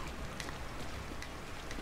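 Rain falls in the horror video game The Evil Within, a steady moderate patter of drops on surfaces, uniform and unbroken, with no speech over it.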